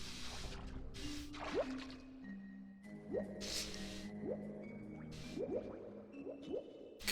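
Muffled underwater ambience from Donkey Kong 64, soft bubbling squishes and drips with gliding tonal swooshes over a low murky hum, faint and continuous.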